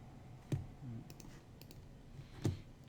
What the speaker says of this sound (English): I'm going to click on the text again